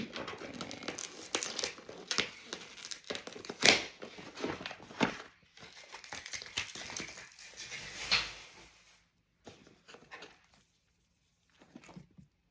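Crinkling and tearing of plastic packaging as a gold ribbon is unwrapped, close and fairly quiet, in irregular rustling bursts that fade toward the end.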